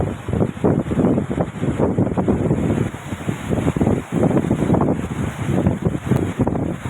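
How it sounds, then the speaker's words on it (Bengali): Strong wind on Kuakata sea beach buffets the microphone in a loud, continuous, gusting rumble that dips only briefly, with no voices. "বিচে প্রচুর বাতাস"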